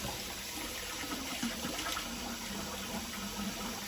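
A cup and a half of water poured for a boxed pasta meal, a faint, steady running-water hiss close by and without a break.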